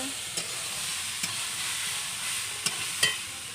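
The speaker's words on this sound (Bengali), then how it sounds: "তারপর ছোলাটা কষানো হচ্ছে হলুদ দেওয়া হচ্ছে" Chickpeas frying with turmeric and salt in a pan, a steady sizzle with a few sharp scrapes of stirring at irregular intervals, close and alone without talk.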